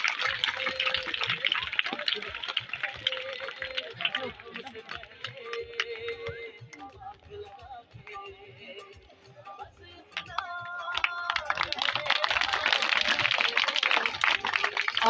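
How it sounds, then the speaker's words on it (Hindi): At a school prize distribution ceremony, a crowd of students and guests claps for a prize winner. Dense, rapid applause fills the start, fades under a speaker's voice, then swells loudly again toward the end. "नवीद के लिए एक दफा फिर तालियां।"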